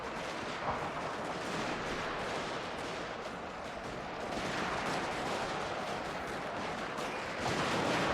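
Rapid gunfire from a Shogun 2 Total War: Fall of the Samurai battle crackles as dense, continuous volleys of musket and rifle shots, busy and layered at moderate loudness with no talking.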